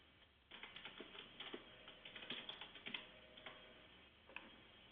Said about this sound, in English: I'm not used to the keyboard.